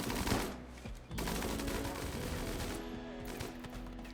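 Turrets in Rimworld gun down fleeing raiders with loud, sustained automatic fire, a short gap near the first second and then a steady dense rattle, with no talk.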